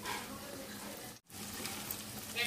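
Food frying in a pan at home during a first round of frying, a steady soft sizzle with faint crackle running throughout, briefly cutting out midway before resuming at a moderate, close level.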